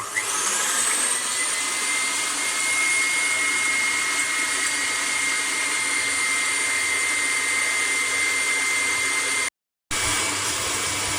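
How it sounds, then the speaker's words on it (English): An electric whisk beats brownie batter for dark chocolate and fig brownies in a bowl, giving a steady, loud whirring drone that runs almost without change, broken only by a brief cut-out near the end. "Bring the bowl up and then start whisking, and we want to whisk that till it's light and fluffy."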